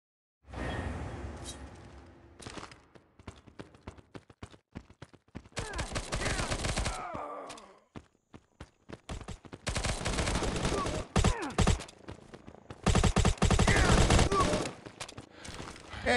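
Bursts of AK-47 Pro automatic gunfire from the video game Modern Ops, with long rattling volleys and short clusters of shots, loud and close, separated by brief gaps.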